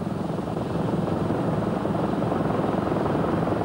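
A Mil Mi-14 anti-submarine helicopter, a development of the Mi-8, roars steadily and loudly with a dense, constant rotor and engine drone throughout, no voices.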